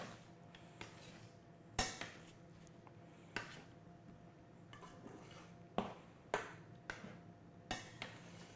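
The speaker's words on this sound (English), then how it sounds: "Come back to our eggs, give that a quick stir." Eggs being stirred in a pan for sheet pan breakfast quesadillas, with a utensil scraping and knocking against the pan in sharp, irregular clinks over a quiet kitchen background.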